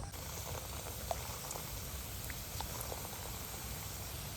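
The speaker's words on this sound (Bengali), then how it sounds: "একই প্রসেসে মিষ্টিগুলো ভেজে নেব" Semolina gulab jamun sweets frying in oil, a faint, steady soft sizzle and bubbling with scattered tiny pops, heard alone and quietly.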